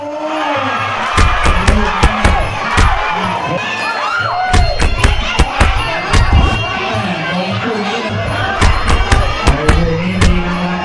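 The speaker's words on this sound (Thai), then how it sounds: "ฮ่าฮ่ากองเชียร์ดูสิครับ" A crowd of supporters at a local folk boxing match cheers and shouts in loud surging waves, with sharp claps and bangs scattered throughout.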